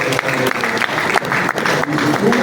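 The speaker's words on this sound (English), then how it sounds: "the round of applause" Sustained applause from an audience, a steady dense clatter of many hands clapping throughout, loud and close.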